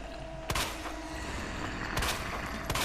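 Gunfire in the Resident Evil 2 video game, hardcore mode: three sharp, loud shots spaced over a few seconds, ringing over a dense, noisy game background.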